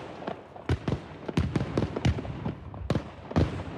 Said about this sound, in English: a barrage of flashbangs to bring an end to this armed standoff